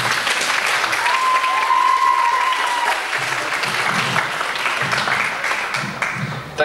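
A festival audience of religious song gives a young singer a steady, loud round of applause that fills the whole stretch, with many hands clapping at once and a crowd murmur underneath.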